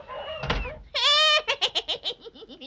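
A loud burst of cartoonish meowing gives way to a quick run of high, yapping barks, close and bright, with a softer squeaky cry before it: a cats-and-dogs-raining sound effect in a Christmas children's radio adventure story.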